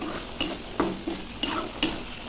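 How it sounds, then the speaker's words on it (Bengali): Ginger, turmeric, salt and potato fry in hot oil while a spoon scrapes and stirs the pan in five sharp, regular strokes over a low continuous sizzle, close and fairly quiet. "মশলাটা ভাজা হয়ে গেছে"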